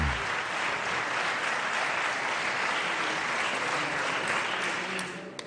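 Senators in the French Senate chamber give loud, sustained applause, a dense, even wash of clapping that holds steady and then tapers slightly at the end, with no talk over it.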